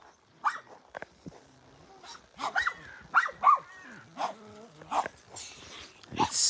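Three chained dogs outdoors in a quiet natural setting bark in short, scattered bursts and let out high whimpers and whines between them, close by and moderately loud.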